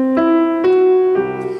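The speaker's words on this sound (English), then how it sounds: "a beautiful melody after a lot of impressionism in the second movement" A sustained piano melody from the second movement of Paul Reale's Piano Concerto No. 1 rings out alone, a few held notes struck in slow succession with resonant tones.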